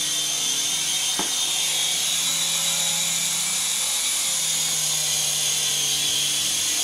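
A Syma S111G toy RC helicopter flying, its small motor and rotor giving a steady, high-pitched whine that holds loud and even throughout, with one brief tap near the start.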